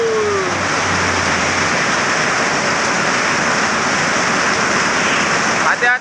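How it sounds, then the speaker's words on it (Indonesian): Heavy rain pours down in a steady, dense roar, loud and close, with no break for the full length. "Hujan ini sangat lebat guys."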